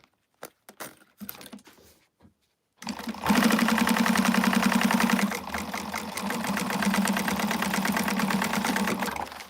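A sewing machine stitches the seam of a fabric wristlet during a live sewing session, running in a steady, close, rapid mechanical whir for several seconds after a few light handling clicks.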